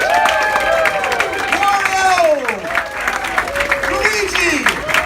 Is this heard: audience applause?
yes